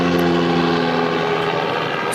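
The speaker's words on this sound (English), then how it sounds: "And I'll wait for the helicopter to come over the top here" A helicopter passes overhead outdoors, a loud, steady droning hum with a layered engine tone that holds across the whole moment and drifts only slightly.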